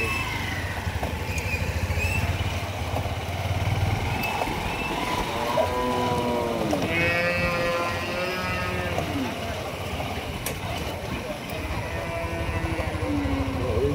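Cattle low and moo at a large livestock market, several calls rising over constant background chatter and market bustle.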